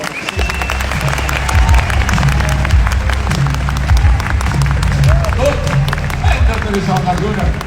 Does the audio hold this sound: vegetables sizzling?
no